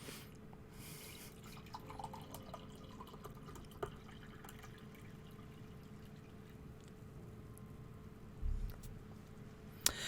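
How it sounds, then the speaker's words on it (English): Tea poured into a cup indoors, a faint, steady trickle of liquid running for several seconds, with a few soft drips and light clinks and no voices. "The Marshal wants me to drink some tea. You probably heard me pouring it."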